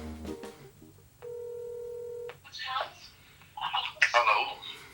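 Phone dialed to call a client: a brief run of touch-tone beeps, then a steady ringback tone for about a second, followed by faint voices on the line.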